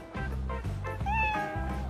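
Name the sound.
cat meowing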